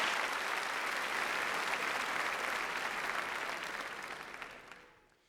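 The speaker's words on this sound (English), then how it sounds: "Please give them a round of applause." A crowd at a high school graduation ceremony applauds the named graduates, a broad even roar of many clapping hands that holds steady, then fades away over the final second or two.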